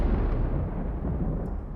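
A synthesized explosion effect built in Unreal Engine 5 MetaSounds booms out as a deep, rumbling blast that sustains and slowly tails off, heard alone.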